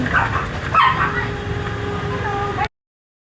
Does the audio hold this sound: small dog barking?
yes